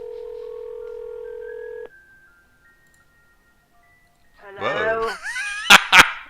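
A cordless telephone rings in the Nine Noir video game: a steady electronic tone holds for about two seconds, then cuts off. After a quiet gap, a burst of vocal sounds follows.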